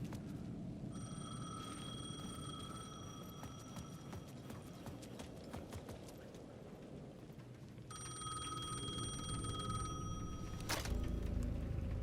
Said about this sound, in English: payphone at the edge of the plaza was ringing again